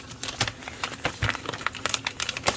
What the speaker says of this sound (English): Might just jam a hole through it with this scissors.